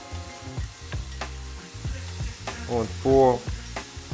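Oil sizzles steadily around meatballs frying in a pan while a person speaks briefly and a utensil scrapes and stirs in the pan.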